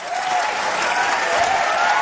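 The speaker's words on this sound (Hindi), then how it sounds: "इनके लिए भी जोरदार तालियां।" Studio audience applause on a Hindi comedy talk show, a short burst of loud, dense clapping with crowd noise, steady and alone.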